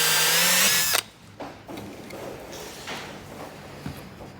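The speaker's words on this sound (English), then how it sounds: "I'm gonna go ahead and drill the hole now for my transducer cable." A power drill bores a hole through a plastic plate for a transducer cable, a loud steady whine for about a second that stops abruptly, followed by faint handling sounds.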